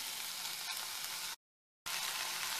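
Onions and potatoes fry in a pan for ghughari, a loud, dense, continuous sizzle broken by a brief gap of silence before the frying resumes.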